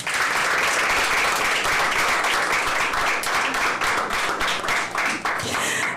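An audience at a reading contest applauds warmly, steady dense clapping filling the whole stretch at close range with no speech over it.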